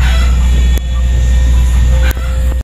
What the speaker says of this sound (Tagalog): Ayun yung mga alaga naming manok.